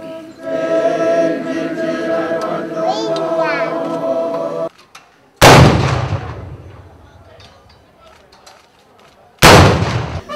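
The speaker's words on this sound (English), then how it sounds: "He was given an 11-gun military salute as his coffin was gently laid into his final resting place." An 11-gun military salute at a funeral in Uganda, with two loud booming blasts several seconds apart, each rolling away into a long echo, after a stretch of a voice speaking.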